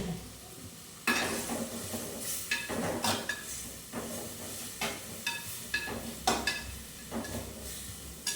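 Fenugreek seeds hit hot oil in a home kitchen and splutter into a loud, crackling sizzle, with sharp popping bursts and scraping stirs recurring every second or so over a steady fry.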